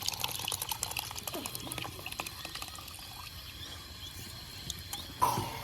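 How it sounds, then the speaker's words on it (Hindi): A mixture of saffron, yogurt, milk and cream is poured into simmering dal, giving a soft continuous liquid pour and gentle bubbling in a kitchen, with a brief clatter near the end. "अब इसमें ऐड करेंगे हम केसर, दही, दूध और क्रीम जो हमने मिक्स करके रखी थी।"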